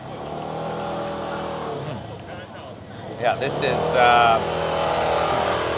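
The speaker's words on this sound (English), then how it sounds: "You know, I love we're eating in the middle of the road, there's scooters driving by." Scooters and other motor traffic passing along a busy Taiwan street beside an outdoor night market, engines rising and fading nearby under loud, close conversation and crowd chatter.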